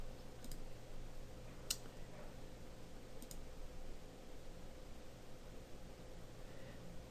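A computer mouse gives a few faint, sharp clicks, about three or four spread across several seconds, over steady fan hum in a quiet room with no talking.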